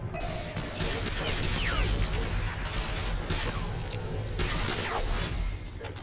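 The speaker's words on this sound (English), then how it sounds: "You can fire like that." Gunfire in the video game Ghost Recon Phantoms rattles in dense, continuous bursts with sharp cracks and mechanical clatter, loud and busy throughout the scene.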